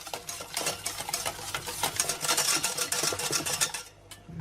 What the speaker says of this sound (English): And just give it a little whisk through.